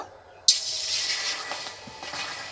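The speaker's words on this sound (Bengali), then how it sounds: "এই কড়াইয়ের মধ্যে অল্প একটু জল দেব।" Water is poured into a hot kadai after chilies are fried, making a sudden loud hiss that settles into a steady sizzle and slowly fades.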